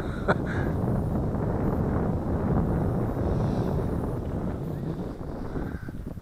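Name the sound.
strong wind on a soccer field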